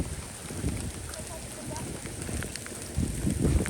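Rain falling on hot tarmac in summer, a steady close patter and hiss of drops with gusty low rumble, with brief bursts of talk over it.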